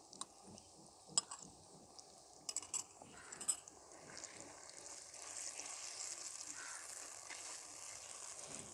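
Clatter of a utensil against a pan, then sauce hitting fried garlic and settling into a soft, steady sizzle that builds gradually, close by with no talking.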